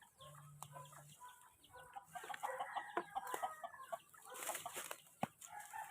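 Chickens cluck and squawk in scattered bursts, fairly close but soft, with a few sharp calls and rustling in a quiet outdoor setting.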